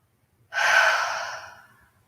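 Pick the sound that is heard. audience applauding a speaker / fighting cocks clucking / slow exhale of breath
slow exhale of breath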